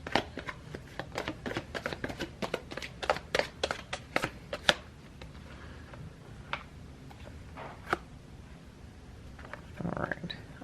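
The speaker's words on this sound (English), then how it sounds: "So these, I'm going to pull 2 cards" Tarot cards being shuffled and drawn by hand: a close, rapid run of crisp riffling taps that thins into a few scattered snaps, with a brief rustle at the end.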